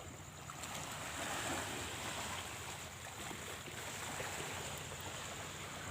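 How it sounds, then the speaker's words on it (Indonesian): Sea waves washing steadily onto the shore at a seaside spot in Pesawaran, Lampung, a continuous broad surf wash with some wind, moderately loud and with no one talking. "Nah, dan ini laut,"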